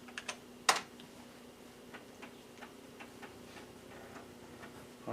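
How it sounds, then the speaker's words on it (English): Keys clatter on a computer keyboard as a command is typed, a sparse run of light clicks with one sharper keystroke early on, all close and quiet against a faint background hum. "So we'll go ahead and do what it says and type in Win."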